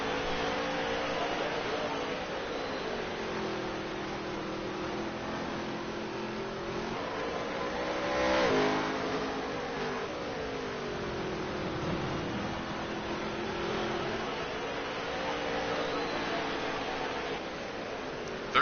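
Race cars at the NOSSCAR Charlotte Dirt 100 circling a dirt track, a steady layered engine drone rising and falling as the field passes, with a louder surge midway, heard at a distance beneath race commentary.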